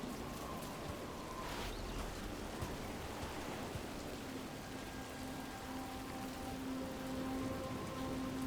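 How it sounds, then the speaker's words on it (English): Steady rain storm in the video game Dragon Age: The Veilguard, a dense wash of rainfall pattering on surfaces, constant and fairly loud throughout with a faint low hum underneath and no talking. "Do not stay out too long in the storm."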